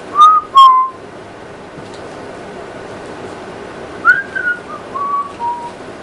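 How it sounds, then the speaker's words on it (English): A person whistles in a war museum, two short sliding notes, then a pause, then a longer wavering phrase of falling tones, clear and close against a quiet background. "Can you whistle?"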